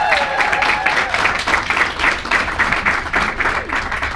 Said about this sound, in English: So we have a huge round of applause for Errol and Vilma coming there.